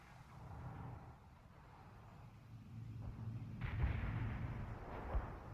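Distant heavy artillery fire in World in Conflict, low rumbling thuds building up over the clip with a couple of sharper booms near the end, faint and muffled.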